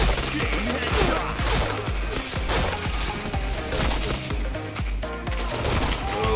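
Rapid video game gunfire with dense bursts of shots under a constant layer of game sound, loud and continuous throughout.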